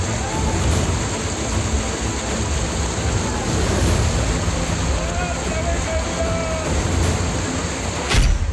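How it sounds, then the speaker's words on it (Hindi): Fast-flowing floodwater sweeping cars away, a continuous loud rushing roar that carries on steadily, with faint voices mixed into it. "पानी का इतना तेज प्रवाह कि बाढ़ में बहने लगी गाड़ियां।"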